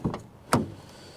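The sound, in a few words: car door closing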